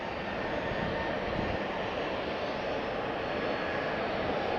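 A jet airliner from Billund roars at Faro Airport, a steady, loud broadband engine rumble that holds evenly throughout with no voices over it.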